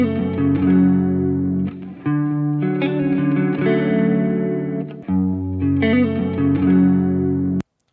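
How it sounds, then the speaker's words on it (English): A dry electric guitar with no reverb plays a run of sustained chords and notes, loud and close with a slightly driven tone, ending with an abrupt cutoff. "So here is the electric guitar without any reverb applied."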